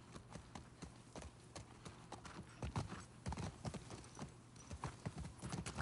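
Horse hooves clip-clopping in the video game The Last of Us 2, a busy run of close, crisp hoof strikes at a walking rhythm over low background rumble.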